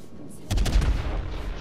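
Yamato battleship main guns firing shells in World of Warships, a single heavy deep boom that swells suddenly after a quiet moment and rumbles on.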